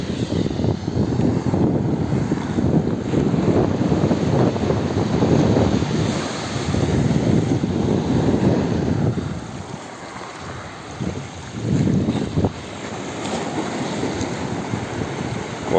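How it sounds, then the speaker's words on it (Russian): Low surf rumbles against a stone breakwater by the sea, a deep, loud wash of breaking waves that rises and falls, easing briefly before surging again. "А какой приятный шум, такой низкий, морской."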